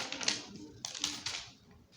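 A Sharpie marker scratches across a notebook page in two short close strokes, quiet and alone.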